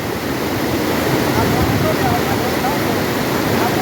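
Rushing water of the Tos river pours in a dense, continuous roar, loud and near, steady with no break and no clear speech.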